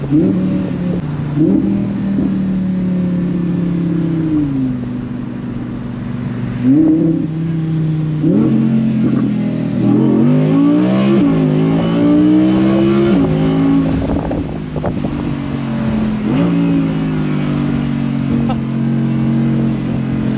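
An Audi R8 V10 Performance Spyder in performance mode revs hard through a string of aggressive gear shifts, the engine note repeatedly climbing and dropping, loud and close with a voice speaking over it.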